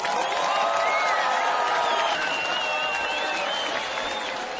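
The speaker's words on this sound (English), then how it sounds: "round of applause for D-Watt, our special guest." A studio audience applauds a special guest on a talk show, with dense, steady clapping mixed with a few whistles and cheers, tapering slightly toward the end.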